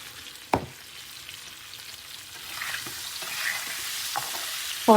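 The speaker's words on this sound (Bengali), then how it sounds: "রঙটা ভালো আসবে, তো ভালোভাবে ভেজে নেব" Turmeric, salt and Kashmiri chilli powder fry in a pan with a faint, steady sizzle, broken by a sharp scrape early and a few quieter stirring taps, close and with no talking.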